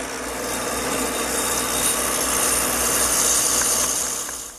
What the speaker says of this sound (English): Now the mortise is cut with this attachment I have on my drill press.